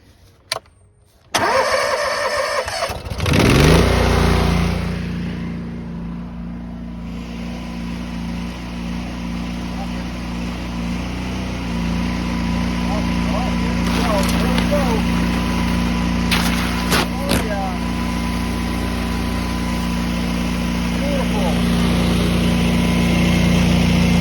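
Power washer engine cranking and catching in a driveway, followed by a steady mid-pitched idle that runs on, with brief clattering and faint voices partway through.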